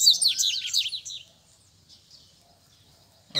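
A coleiro, or double-collared seedeater, gives a quick burst of high chirping notes close by for about a second, then falls quiet against a faint background.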